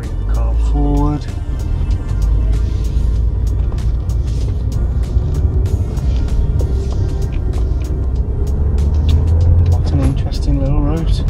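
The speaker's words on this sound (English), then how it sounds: "Just going to pause there, bring the car forward." A car on a driving test route in Lichfield pulls forward from a staggered crossroads, its engine a steady close rumble throughout with brief tonal beeps at the start and end.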